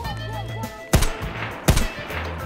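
Gunfire in the shooter game Escape from Tarkov, two loud sharp shots about three quarters of a second apart over a low humming background.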